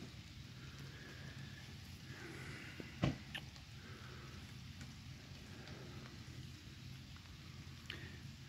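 Steady rain falling in an empty park, a soft continuous hiss with a single sharp tap partway through, heard alone with no voices.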